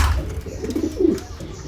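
A newly paired couple of pet pigeons coo softly at close range, with low, rolling calls that repeat in short bursts.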